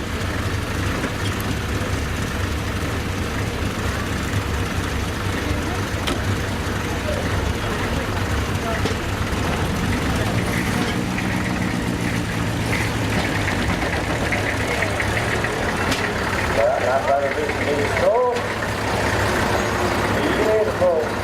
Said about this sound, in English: Here we go, a 1953 Land Rover.